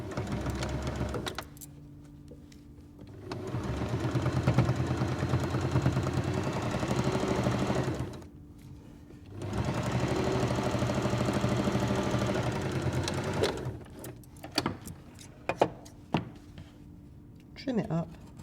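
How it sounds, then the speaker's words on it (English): A sewing machine runs a straight stitch down the side of a fabric bag, two steady mechanical bursts of whirring with a pause between, then a few short clicks and taps as it stops. "Turn your machine back to a straight stitch and sew exactly the same way down the other side."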